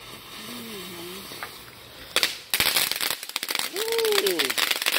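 Fireworks burst outdoors in a sharp loud crack followed by a dense crackling spray of pops, with people talking and exclaiming before and during the display.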